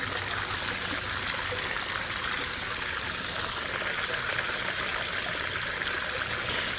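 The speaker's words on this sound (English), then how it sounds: "So I'm gonna get more water in there quick and give this bucket another" Water is poured into a bucket to rinse it out during gold prospecting, a continuous close rushing and splashing with no break or talk.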